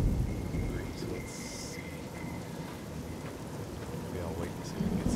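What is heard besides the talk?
rain and thunder in the video game Fallout New Vegas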